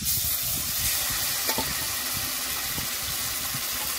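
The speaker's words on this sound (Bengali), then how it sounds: "এবার আমি ম্যারিনেট করা মাছগুলো দিয়ে দেব" Marinated katla fish sizzling and frying in hot oil in a wok, a steady loud crackle with occasional stirring scrapes, close and continuous with no voices.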